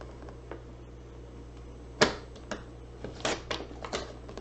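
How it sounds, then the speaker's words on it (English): Scissors cutting card paper in half for a graduation card, heard as a few sharp, close snips and crisp paper rustles spaced over a quiet background, with one distinct louder cut near the middle. "you're going to turn it and you're going to cut that in half again"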